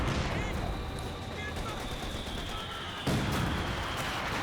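AA half-track machine-gun fire in a multiplayer World War II strategy game, a dense continuous rattle of distant shots under a busy battle soundscape, with a louder burst near the end.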